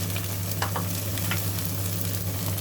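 Chinese kale and egg stir-fried in a pan give a steady, close sizzle, with a few stirring scrapes breaking through the continuous frying hiss and no voices.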